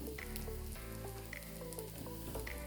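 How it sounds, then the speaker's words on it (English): Leftover pot roast vegetables sautéing in a pan, a soft steady sizzle and crackle with occasional pops, heard up close without speech. "So I'm just gonna saute them a little bit in here, probably get a nice good char on them."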